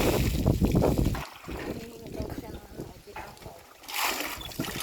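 Water splashes and pours in bursts during an outdoor bath, with wind buffeting the microphone and voices talking over much of it.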